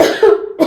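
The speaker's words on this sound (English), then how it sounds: "It's making me cough." A person coughs sharply after eating food with spicy sauce, a couple of close, loud coughs with a brief throat-clearing sound between them.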